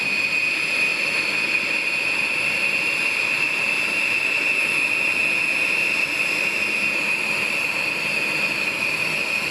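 A pair of B-1 bomber jets at Davis-Monthan Air Force Base in Arizona gives off a loud, steady engine roar with a high, sustained whine over it. The roar holds level throughout with no voices.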